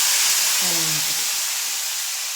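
A tempering added to horse gram soup on a low gas flame sizzles with a loud, broad hiss that is strongest at first and slowly eases off, with no speech.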